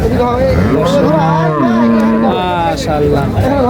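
Friesian dairy cows at a busy cattle market, loud close moos rising and falling repeatedly, mixed with crowd noise and voices in the background.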